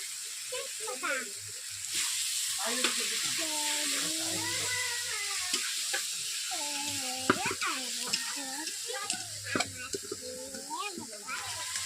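Onion, garlic and ginger sautéing in a pan for a curry, a steady soft sizzle with scraping stirs throughout, under an ongoing voice talking and some background noise.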